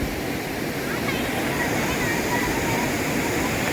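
River water pouring down from a check dam at Anchuruli in Idukki, a steady close rushing roar filling the whole short stretch without pause.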